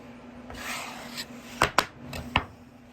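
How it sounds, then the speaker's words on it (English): A bench scraper works biscuit dough with soft scraping and rubbing strokes, then three sharp taps against the work surface, quiet and close, with no talking. "Use your dough scraper"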